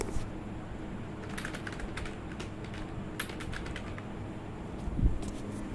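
Soft, fairly quiet keyboard typing at a computer while writing in MS Word, with irregular clusters of key taps and short pauses over a faint background hum.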